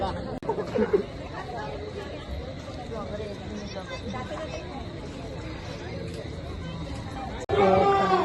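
Crowd chatter at the Vashi Ganpati pandal during the Ganesh festival: a steady babble of many voices, close and continuous, with a sharp break near the end before the chatter resumes louder.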